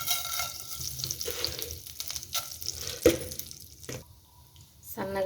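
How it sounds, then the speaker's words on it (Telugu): Tempering spices crackle and fry in hot oil in a pan, a steady sizzle with sharp pops and clinks, close and moderately loud, with talking over it. "ఇప్పుడు పోపు దినుసులు వేసుకుంటున్నాను."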